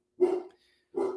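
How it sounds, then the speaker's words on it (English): A dog barks twice in the background, two short, separate woofs with a pause between them in an otherwise quiet room. "my dog's barking in the background"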